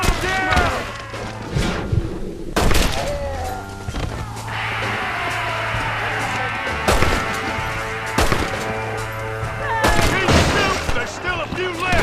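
Repeated gunfire in the undead-infested Western game Red Dead Redemption: Undead Nightmare, with sharp shots bursting every few seconds over a sustained, rumbling battle bed, while shouting voices break in between.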